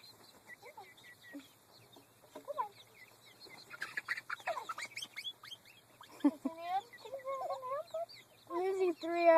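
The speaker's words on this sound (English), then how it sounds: "Come on, chickens." Young backyard chickens, one to two months old, clucking and squawking close by in scattered bursts that grow louder toward the end, with soft voices of people talking nearby.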